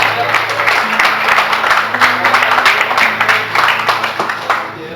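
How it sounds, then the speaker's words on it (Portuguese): A church congregation applauds, a dense, loud wash of clapping hands that continues for several seconds and fades at the end, with a voice speaking over it. "Você pode dar uma aplauso ao Senhor Jesus?"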